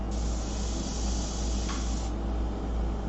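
An airbrush steadily spraying paint onto a fashion portrait, a continuous close hiss over a low compressor hum, the spray cutting off briefly partway and then resuming.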